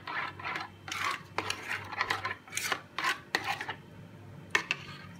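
A spoon or whisk repeatedly scrapes and clinks against a vessel while chocolate lassi is mixed, producing rhythmic bursts of rubbing and metallic tapping at close range, with no talking.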